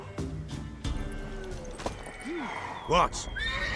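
A mare in The Witcher 3 video game neighs amid in-game dialogue, with a short whinny followed by a louder, rising whinny near the end under game music and voices.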